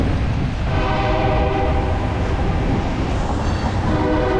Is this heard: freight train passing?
yes